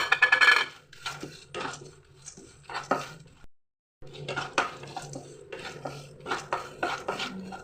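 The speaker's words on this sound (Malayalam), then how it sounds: "ഇതിലൂടെ നമുക്ക് കുറച്ച് കപ്പലണ്ടിയും കൂടെ ഇട്ട് കൊടുക്കാം" Peanuts are tossed and stirred in a pan while cooking an aval (flattened rice) dish. Close metallic clatter and scraping from a spatula comes in uneven bursts, with a brief silent gap midway and no talk.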